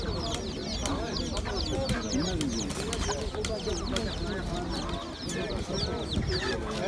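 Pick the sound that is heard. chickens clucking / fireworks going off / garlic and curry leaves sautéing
chickens clucking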